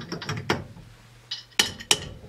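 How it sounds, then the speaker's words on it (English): Ratcheting, metallic clicks and clunks of a 3/4 inch Whitworth box spanner working loose the steering wheel nut on a Morris Minor steering column, a few separate knocks and turns, close and fairly quiet with pauses between. "The right tool is a 3/4 inch Whitworth box spanner."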